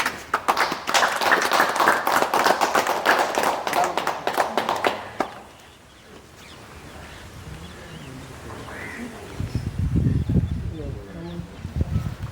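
Applause from a gathered audience at a community event in Pungudutivu, where new houses built by diaspora relatives are handed over, runs loud and dense for about five seconds, then stops abruptly; quieter murmur and talk follow.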